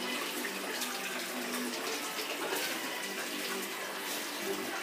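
Water gushing steadily from a filter being backwashed to flush out sediment, a continuous broadband rush that stays loud and even throughout with no pauses.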